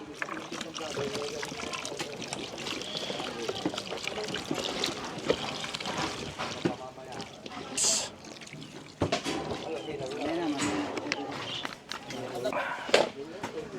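A little water trickles into a Filipino-style cooking dish that already holds chili, a soft liquid pour blended into busy kitchen noise and a voice in the background.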